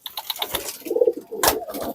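Young pigeons chosen as promising birds flap their wings in short quick bursts, close by, with a few soft coos between the flutters and no voices.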